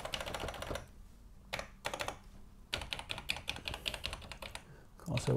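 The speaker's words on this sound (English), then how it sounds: "let's just check if the keys work." Typing on an Atari 800 XL computer keyboard under repair, fast bursts of clicking keystrokes with brief pauses between, close and distinct, with faint speech in places.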